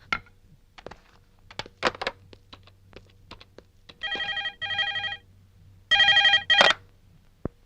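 An outgoing call on a phone, heard from the caller's end: after some scattered clicks and taps, two bursts of ringing tone play, a pause, then another ringing burst, all fairly quiet and close.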